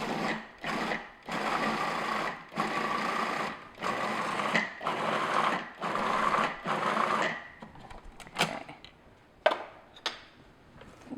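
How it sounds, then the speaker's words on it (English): A food processor blending cream cheese for brownies runs in repeated pulses of a few seconds each, a close, steady whirring motor broken by brief pauses, then a few scattered knocks at the end. "I'm going to process this until it's nice and creamy and smooth."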